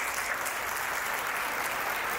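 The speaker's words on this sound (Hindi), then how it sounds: "तालियां कमजोर रह गई आपकी" A crowd at a Mahavir Jayanti poetry recital claps together in a steady, even wash of applause for about two seconds, moderately loud and without voices.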